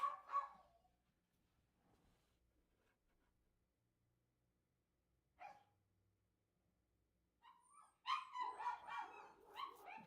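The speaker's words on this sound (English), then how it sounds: "The dogs are screaming." Dogs barking during a football match watch-along, a couple of sharp yips near the start and middle, then a louder run of barking and whimpering toward the end, mostly alone in a quiet room.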